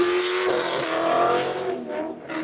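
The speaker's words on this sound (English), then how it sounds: "Rev it a little bit more. Let's hear it." A car engine revving hard through loud exhaust pipes at a car wash: a brief, loud, raspy roar that swells and then eases off, heard without talk.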